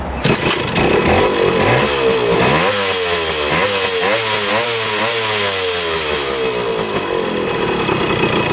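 A cheap two-stroke motorcycle engine revs hard and close, its buzzy pitch climbing and falling in repeated throttle sweeps over about nine seconds, loud and steady with no talking.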